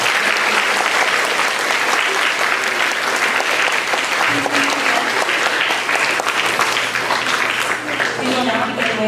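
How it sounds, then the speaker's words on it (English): Audience applause at a school student council installation ceremony, a loud continuous round of clapping from a large crowd, with murmured voices and a low hum underneath toward the end. "Give them another round of applause."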